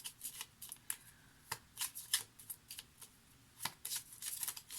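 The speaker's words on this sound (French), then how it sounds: "J'ai envie de reprendre quelques petites cartes du Lenormand pour terminer un peu notre tirage." Lenormand cards are drawn and shuffled during a card reading, a run of soft papery flicks and slaps, close and quiet, with no talking.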